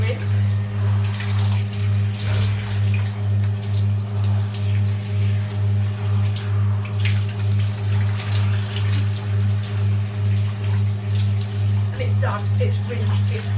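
Running water pours steadily over hair being rinsed in a shower, a continuous splashing hiss over a low pulsing hum from the water supply.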